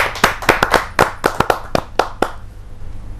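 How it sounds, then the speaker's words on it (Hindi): A small audience at a Hindi kavi sammelan poetry gathering claps about a dozen sharp, loud, evenly spaced beats, then the clapping stops and the room falls quiet. "जोरदार तालियों के साथ संजय जैन जी का"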